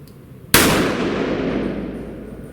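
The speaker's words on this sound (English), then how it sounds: "LCR 38 Special. It's a good handgun, but this has got a long double action trigger pull" An LCR .38 Special double-action handgun fires one sharp, loud shot at a 7-yard range, and the report rings out and slowly fades afterward.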